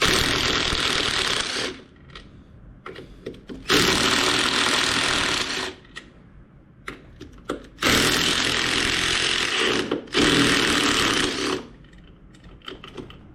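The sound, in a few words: power tool removing screws on a 2024 Road Glide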